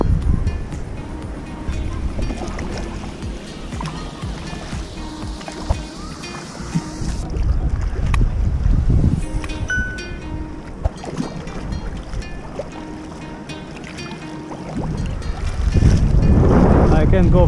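Strong wind at sea while kayaking off Capri in rough water, loud and continuous gusty rumbling across the microphone, with splashing water mixed in and swelling louder toward the end.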